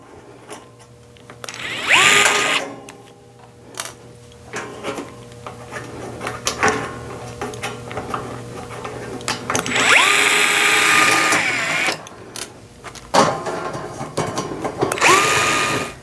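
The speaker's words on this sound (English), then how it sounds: "And next I'll loosen the shield on the other side of the machine." Loosening the shield on a Next Wave Shark HD5 CNC machine with a power tool, giving several bursts of ratcheting, drill-like whirring separated by clinks and handling of metal parts, fairly close and with no talking.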